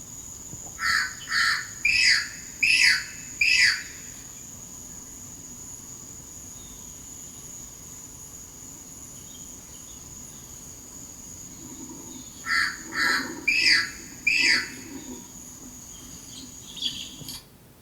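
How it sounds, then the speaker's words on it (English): A Racket-tailed Drongo gives two bursts of four harsh, crow-like squawking calls each, separated by a long pause over a steady high insect drone, with a faint extra call at the end. "This is a bird called the Racket-tailed Drongo, and in this video it is partly making a call that seems to sound like that of a crow"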